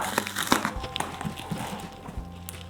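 A heavy cardboard box holding a book delivery is torn open up close, with sharp crinkling and ripping bursts, then softer rustling as the flaps give way.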